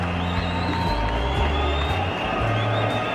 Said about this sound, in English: Disappointment in the crowd.